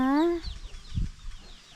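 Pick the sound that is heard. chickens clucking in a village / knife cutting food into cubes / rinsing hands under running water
chickens clucking in a village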